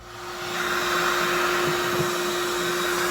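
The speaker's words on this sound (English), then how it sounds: "I'm about to get the vacuum cleaner in here and start vacuuming" A vacuum cleaner inside a Chevy S10 drift truck cab starts up and swells into a loud, steady whooshing roar with a constant motor whine. It runs alone, without talk.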